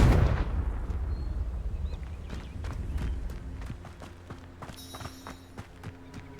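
Blasting spell explosions from Hogwarts Legacy gameplay on PS5: a loud burst at the start followed by a series of sharp impacts and crackling debris, with a steady game soundscape and sustained musical tones underneath.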